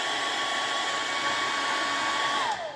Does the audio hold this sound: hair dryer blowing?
yes